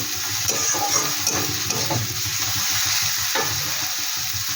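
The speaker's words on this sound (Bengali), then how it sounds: "এই হলুদটা দিয়ে একটু নাড়াচাড়া করে নিচ্ছি" Turmeric is stirred into radish frying in a pan, making a steady close hiss of sizzling oil broken by soft scrapes of the spoon at irregular intervals, with no voices.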